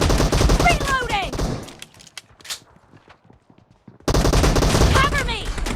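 Shotgun blasts ring out in a team deathmatch video game on the Warehouse map, with scattered reports in a quieter stretch between loud passages of in-game voice chatter.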